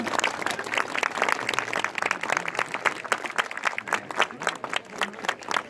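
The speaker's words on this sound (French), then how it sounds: "je pense qu'on peut les applaudir" Outdoor applause at an Armistice ceremony for the end of the 1914–1918 war in Gougnies, a crowd clapping steadily for several seconds, crisp individual claps standing out in a moderately loud, continuous patter.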